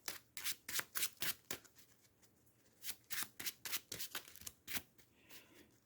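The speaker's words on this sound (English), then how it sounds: "They get shuffled back into the deck." Playing cards for a Marvel Champions card game are riffled and shuffled back into a deck by hand, two quick runs of crisp rustling bursts separated by a short pause, close and quiet.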